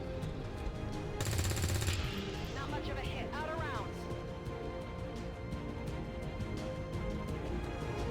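Gunfire in the turn-based strategy game Long War 2 arrives as a short, dense burst of rapid shots, followed by whooshing and sweeping game effects under a steady background bed.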